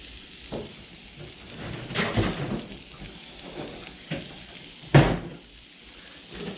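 Olive oil sizzles on a Blackstone griddle as ingredients sauté, a steady quiet frying hiss with a couple of louder scraping stirs.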